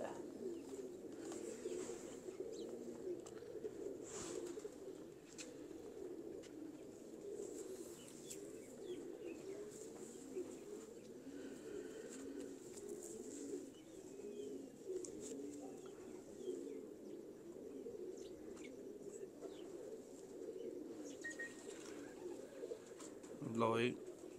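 Sandurii Palak breed pigeons coo steadily in a dense, overlapping chorus, the soft rolling calls repeating without pause and ending with a brief louder rustle.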